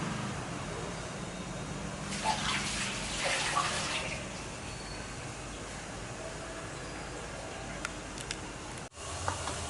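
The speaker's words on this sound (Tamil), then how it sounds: "கொஞ்சம் தண்ணி கொதிச்சிருச்சு" Water boils in a pot while Chettinad kavuni rice porridge is being made, giving a steady, close bubbling hiss throughout with a brief dip near the end.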